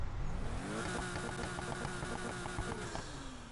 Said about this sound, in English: You can go to the exhaust, and you can rim the engine up and make the exhaust sound how you want to.